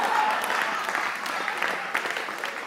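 A church congregation claps and cheers in praise, a dense, sustained round of applause filling the room with rippling hand claps.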